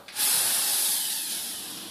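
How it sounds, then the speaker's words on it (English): A quiet orbital sander starts up and runs with a steady, fairly loud hiss that eases slightly as it keeps going. "so, orbital sander."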